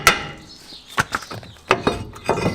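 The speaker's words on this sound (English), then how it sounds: "Give it a little tap with a hammer" A hammer taps a brake disc off the rear hub of a Peugeot 407, giving four or five sharp, close knocks spaced unevenly over a couple of seconds.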